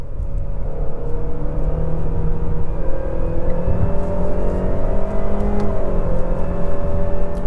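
A 2020 Honda Civic EXL with a dual-clutch gearbox accelerating on a test drive, its engine note rising steadily and then dipping briefly at a gear change, loud and close with no talking.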